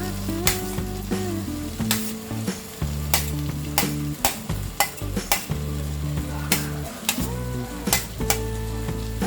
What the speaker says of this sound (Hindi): अब हम इसमें डालेंगे ये फ्राई किए हुए आलू।